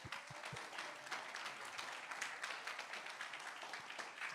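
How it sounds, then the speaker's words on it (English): Continuous clapping from an audience, fairly distant and even, with a couple of sharper individual claps near the start. "let's give them a round of applause"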